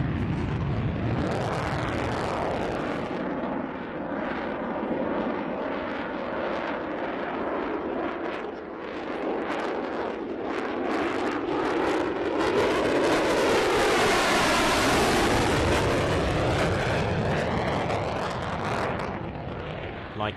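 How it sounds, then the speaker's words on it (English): An F-35 and an EA-18 Growler fly an air show legacy flight at sunset, led by a two-seat EA-1E Skyraider. A loud, continuous jet roar builds and sweeps past overhead, with a rising and falling whine near the middle. "one F-35 and one Growler joined up for another legacy flight"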